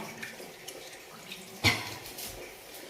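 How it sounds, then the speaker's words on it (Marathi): Water leaking from under a washbasin, splashing and running steadily, with one sharp splatter midway, close by and moderately loud, no voices. "ती पाणी गळतय त्या बेसिंगच्या भांड्यातनं बदा बदा बदा बदा खाली"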